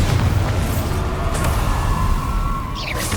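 Bombarda explosion spell in Hogwarts Legacy, a loud deep boom with rumbling debris and scattered crackles, followed by a brighter whooshing burst near the end, with no talking.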